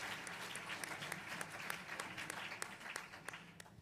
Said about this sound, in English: Thanks for this applause.